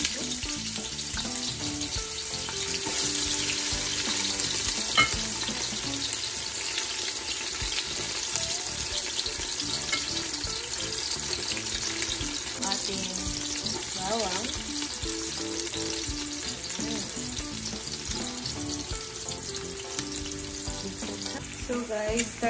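Onions sautéing in a large pot for pork hock paksiw, a loud, dense sizzle that runs close and steady throughout, with stirring scrapes and a bit of background noise.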